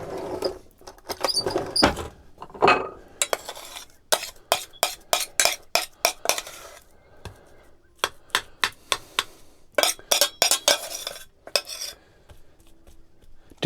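Plate and utensils clatter as mashed potatoes and sausage casserole are dished out, a run of sharp, close clinks and scrapes in quick bursts with short pauses between.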